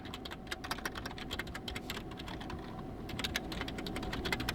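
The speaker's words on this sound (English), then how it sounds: "Let's enter our email address at the top" An email address is typed on a computer keyboard during a Garmin account sign-in, producing a fast, close, uneven run of crisp key clicks with no talking.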